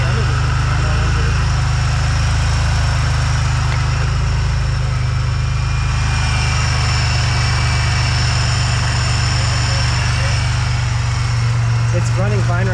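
A supercharged Pontiac Bonneville SSEi engine idles steadily with a deep, even low rumble and a whining upper hum, close and loud throughout, with people talking over it.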